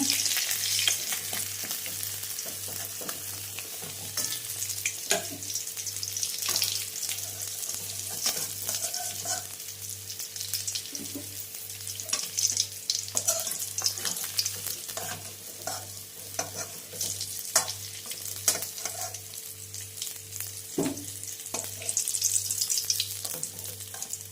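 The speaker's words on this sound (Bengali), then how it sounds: "মাছ ভাজা হচ্ছে মাছ ভাজা আমার হয়ে গেছে" Rohu (bata) fish sizzles steadily in hot oil, with a continuous crackle and occasional clinks of stirring throughout. No one speaks.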